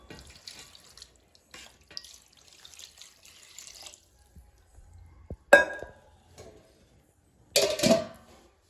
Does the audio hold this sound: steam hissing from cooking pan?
no